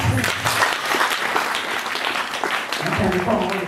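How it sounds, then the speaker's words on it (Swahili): A church congregation claps for the Lord during a testimony service. The applause is steady, loud and close, and a voice is heard over it. "Shangilia Bwana kwa makofi."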